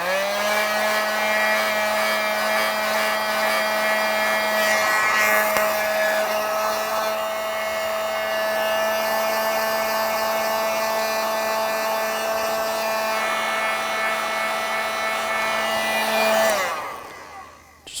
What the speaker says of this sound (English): we're going to use a heat gun, just heat it up a little bit.